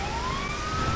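A police siren wails from a pursuing cruiser in GTA 5 Online, its rising tone sweeping steadily over engine rumble and traffic noise, with no talk.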